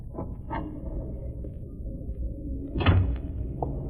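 A door opening in an old-time radio mystery drama, heard as a few soft creaks and knocks followed by a louder clunk near the end, close and moderately quiet.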